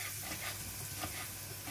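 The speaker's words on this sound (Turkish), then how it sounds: "Önce havuçları yağda biraz kavuruyorum ki biraz yumuşasınlar diye." Carrots sauté in olive oil in a pan, giving a steady, soft sizzle and hiss with faint stirring scrapes throughout, no voices over it.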